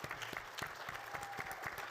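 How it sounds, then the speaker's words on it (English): An audience applauds people on stage at a family gathering about a rare disease, with steady, even clapping from a crowd, heard rather faintly and continuously with no voices on top. "So big round of applause for all of these brave people on stage."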